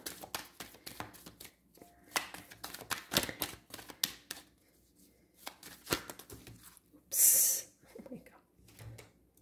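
Tarot cards shuffled and drawn, with quick papery flicks and soft slaps in irregular bursts, close and quiet, ending in a sharper burst of rustling.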